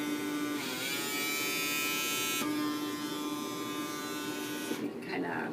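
A PMD microdermabrasion device hums and buzzes continuously as its suction runs, with pitch shifting slightly as it grips skin; a voice talks faintly underneath.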